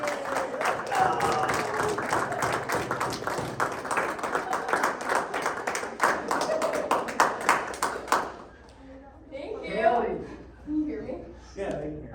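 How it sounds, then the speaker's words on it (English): A group breaks into a round of applause celebrating Hailey Anderson, dense clapping for about eight seconds that then stops as voices talk and cheer. "give a big round of applause to celebrate Hailey Anderson."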